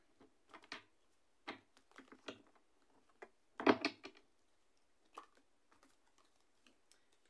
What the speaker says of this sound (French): je range les cartes pour monsieur